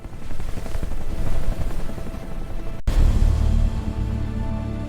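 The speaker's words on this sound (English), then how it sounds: "Sometimes military helicopters intervene." A military helicopter over the Strait of Hormuz gives a steady, loud low rotor rumble that holds throughout, dipping briefly midway before the drone returns fuller and deeper, with no voices.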